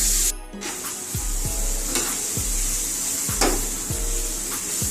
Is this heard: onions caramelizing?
yes